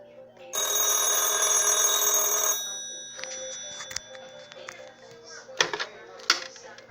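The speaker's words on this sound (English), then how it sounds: "This is the old-fashioned phone ring." Old-fashioned 1950s rotary telephone bell rings in one loud, continuous metallic burst lasting about two seconds, followed by quieter clicks and a couple of sharp knocks as the handset is handled.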